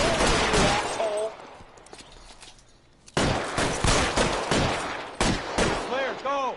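A rapid gunfight in the 1940s Los Angeles crime game LA Noire, with dense bursts of close, loud shots, a brief lull, then renewed heavy fire and a few ricochets.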